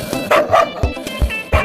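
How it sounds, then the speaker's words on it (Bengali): A cartoon jungle dog gives several quick, sharp barks and yips in a short burst, loud and close, with some voice mixed in. "এটা একটা জাঙ্গলের কুকুর"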